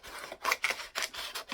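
Scissors snip along a sheet of backing material in quick, close, crisp cuts, about five or six in a row, with no voices.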